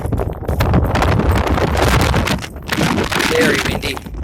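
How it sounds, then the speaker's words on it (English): Strong gusting wind buffets the microphone at Amboy Crater, a loud, continuous roar with rumbling low gusts that briefly ease and return, under a man's speech. "It's actually getting windier than it was before."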